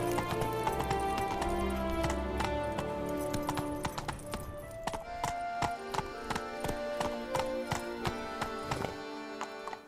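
Roach, the horse in The Witcher 3: Wild Hunt, gallops with rapid, rhythmic hoofbeats up close, while a tonal musical tune plays loudly over and around the clopping.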